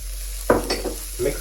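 Chilies tossed into a hot pan for black pepper tofu start to stir-fry, giving a close, sudden hiss and a few scraping stirs over a steady low hum.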